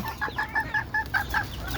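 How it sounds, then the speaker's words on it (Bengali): Chickens cluck in a quick series of short, close calls while eating, a busy, continuous clucking with no talking. "দেখেন মাওলা মুরগি কী করতেছে"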